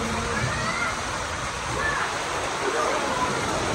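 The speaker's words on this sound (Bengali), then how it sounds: "আজকে বৃষ্টি কিছুক্ষণ পর পড়ে যেতেছে।" Steady rain falls on a rainy day, a continuous even hiss of drops that stays at the same level from start to end.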